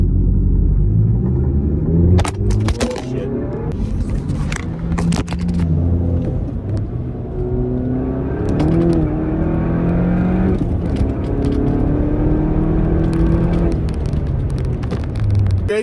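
A Volkswagen Golf GTI races a Nissan 370Z. Deep engine rumble swells and fades as revs climb in repeated rising sweeps, with sharp crackles and pops from nearby passes.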